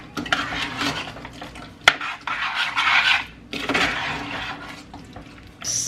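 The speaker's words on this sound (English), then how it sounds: "So I'm going to put my camera down and give this a good hard stir." Blueberry pie filling with whole fruit gets a hard stir, a spoon scraping and sloshing through thick, wet fruit in bursts with short clanks against the bowl.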